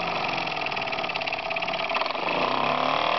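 A small model steam engine running under steam pressure, a steady fast mechanical chatter with dense rhythmic beating that holds its pace and shifts slightly near the end, close and fairly loud with no talking.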